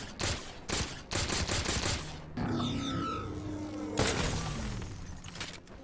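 Gunfire in Halo Infinite: several sharp separate shots, then a longer rattling automatic burst with metallic mechanical tones, loud and close with no talk.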